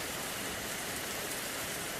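Steady rain falls on a pigeon pea (kandi) farm field, a dense, even hiss of drops that carries on without a break, fairly faint and with no voices.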